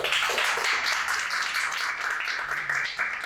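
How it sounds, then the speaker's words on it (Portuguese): Audience clapping at a December plenary session of a Brazilian literary academy, a steady mid-level patter of many hands filling the room without pause. "Obrigado pelas palmas."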